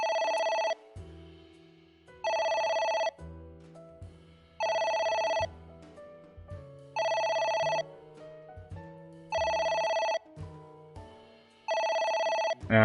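A telephone rings in the video game Ai: The Somnium Files. The electronic ring sounds in six evenly spaced bursts over a quieter background music track.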